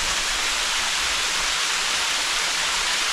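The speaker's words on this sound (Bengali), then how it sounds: "জল, ঝর্ণার জল" A thin winter trickle of a waterfall at Dawki in Meghalaya runs as a steady, close wash of rushing water with no other sounds.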